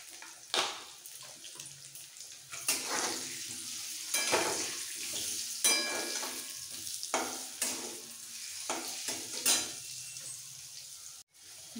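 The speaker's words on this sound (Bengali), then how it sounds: "ঝোলের আলু গোল্ডেন ব্রাউন করে ভাজা হয়ে গেছে।" New potatoes for a bhetki fish curry, with salt and turmeric added, fry golden brown in a pan. Close, loud sizzling rises in repeated bursts as they are stirred, with no talking.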